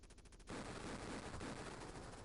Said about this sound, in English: Probably the one with the gunfire outside it.